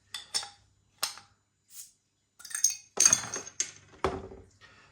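A dark brown 500 ml bottle of Ainsty Ales Flummoxed Farmer blonde ale is handled and opened with a bottle opener, giving a series of close, sharp clinks and taps with short pauses between them.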